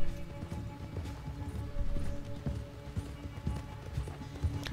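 Hooves of a horse trotting and galloping in Red Dead Redemption 2, a steady rhythmic clip-clop close by, with game ambience underneath and no voices.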